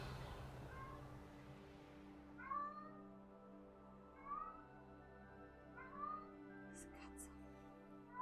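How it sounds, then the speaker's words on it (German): A pet cat named Bilbo meows repeatedly, with about four distinct rising meows spaced a couple of seconds apart, heard over a steady low background drone. "Der Bilbo ist fleißig am Miauen."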